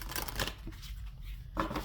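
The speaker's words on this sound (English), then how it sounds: "we'll do one more fan shuffle" A fan shuffle of a deck of oracle cards, close and quiet, with quick riffling bursts separated by a short pause.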